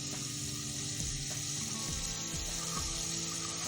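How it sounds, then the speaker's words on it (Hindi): Chicken sizzles in hot oil and ghee with a steady, close frying hiss, broken by a few faint clinks and scrapes, with no talking. "पहले हम चिकन को फ्राई करेंगे।"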